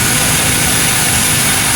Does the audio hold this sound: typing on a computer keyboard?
no